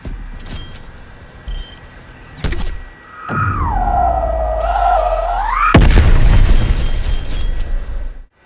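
A launcher fires in Black Ops Cold War on the Yamantau map: sharp booms, then a rising whistling tone as the projectile flies, ending in a loud, close explosion that rumbles on for a couple of seconds.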